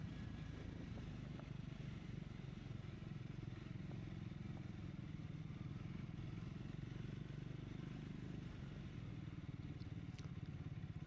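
A Triumph Scrambler 400X motorcycle rumbles steadily along an off-road trail through trees, its engine drone constant and close for the whole stretch, with light clattering from the rough ground.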